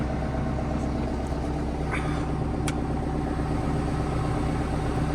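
John Deere 6415 tractor engine running, heard from inside the cab after a winter of little use: a steady, loud, low diesel drone with a fan-like hum, continuous and without talk.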